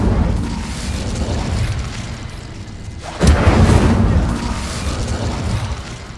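The Incendio fire spell goes off in Hogwarts Legacy, a muffled rumbling whoosh that swells into a louder burst midway through and then trails off under steady game noise.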